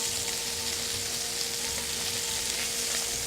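Cordon bleu pieces frying in a pan at medium-high heat, a loud steady sizzle and crackle that holds evenly throughout, close up with no talking.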